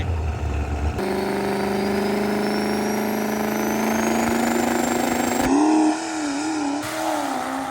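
A 6-liter diesel truck engine revs hard at a diesel drag race event, a loud sustained rising drone that climbs in pitch for several seconds, then drops and wavers as the throttle is feathered.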